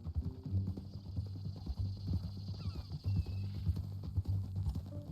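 Horse hooves clip-clop at a steady walking rhythm in Red Dead Redemption 2, close and clear over a low ambient hum, with a brief snort or whinny partway through.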